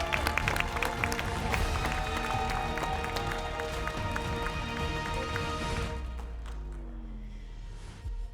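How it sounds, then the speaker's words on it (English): An audience at a city awards ceremony gives a sustained round of applause over tonal background music, then the clapping fades away toward the end. "Please give another round of applause to Lydia Zepeda."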